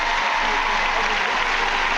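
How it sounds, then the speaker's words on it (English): A large audience applauding at an ice skating gala in Warsaw: dense, steady clapping from a big arena crowd, loud and unbroken throughout. "Sometimes the audience runs out of steam when it's clapping"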